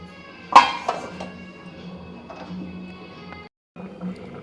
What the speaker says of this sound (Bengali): তার উপরে একটু ঢাকনা চাপা দিয়ে দেবো।